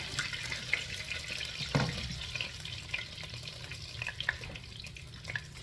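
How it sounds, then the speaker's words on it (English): Hot beef broth poured from a container over a pot roast in a home kitchen, a soft steady trickle and splash with a few drips, quiet and close. "let me pour my broth over it first here. This is my beef broth. Now I got it good and hot."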